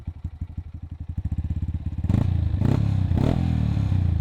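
A Honda Wave 125 motorcycle engine idles with a rapid pulsing putter, then is revved hard into a loud, sustained roar with a couple of throttle blips.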